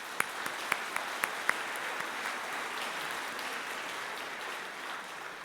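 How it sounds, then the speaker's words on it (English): Audience applause at an athletic hall of fame ceremony, with a few sharp, distinct claps up front before settling into a steady, moderately distant wash of clapping from a large seated crowd. "with a round of applause."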